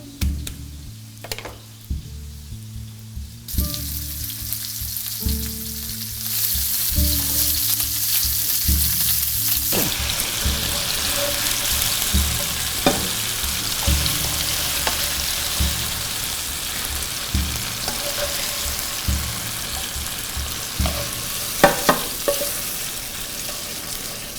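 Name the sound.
lamb and chorizo frying in a pan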